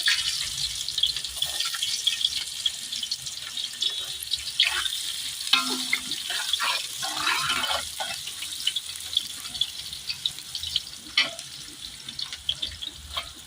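Onions frying in oil with cloves, cinnamon, bay leaf and cardamom as tempering for chicken curry, a continuous close hiss and crackle with occasional stirring scrapes.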